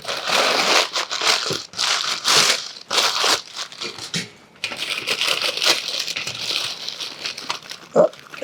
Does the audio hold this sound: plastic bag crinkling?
yes